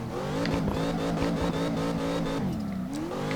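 A Chevrolet Camaro engine in the CarX Drift video game revs hard and steadily while drifting, with tire squeal and shifting pitch under a continuous loud drone.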